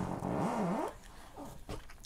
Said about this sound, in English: By the way, that was the sound of my chair